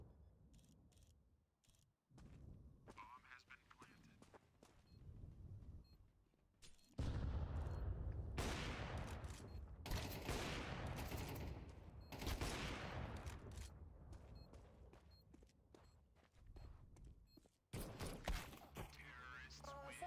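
Counter-Strike 2 firefight with repeated rifle bursts and single shots, moderately loud, mixed with game sounds and someone talking over the action.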